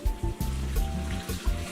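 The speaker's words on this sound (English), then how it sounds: "We're gonna go ahead and pour it on the chicken." Boiled water mixed with white vinegar pours steadily over raw chicken, a close, continuous splashing gush with short breaks as the stream shifts.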